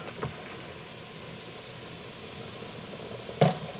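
Noodles bubble in a pan of boiling water with a steady, even hiss, broken twice by brief clunks of a utensil stirring them, once near the start and once louder near the end.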